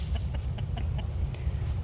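Chickens in a netted backyard run give a few soft, short clucks in a loose rhythm over a steady low rumble of background noise, with no talking.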